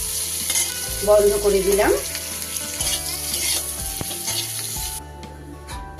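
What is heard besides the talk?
stir-frying onion and capsicum with chicken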